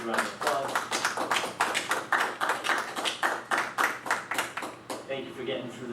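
Round of applause for school employees at a school committee meeting, a steady run of hand claps across the room with a voice talking over it before it fades near the end.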